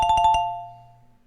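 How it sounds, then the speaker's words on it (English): A quick electronic doorbell chime plays four fast tonal notes, then one lingering tone fades out, clean and close. "Sounds like a doorbell, right?"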